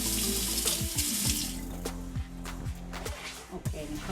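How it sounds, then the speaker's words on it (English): A cup of water pours into a pot of rice for Jamaican-style oxtails, a steady splashing, running-water wash close by with a few light knocks and clinks of the cup and pot. "Okay, and a cup of water is going to go in there."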